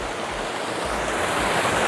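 Galapitiyaya waterfall, seen from a distance with a strong water flow, gives a steady, loud, unbroken rush of falling water with wind-like hiss and no voices.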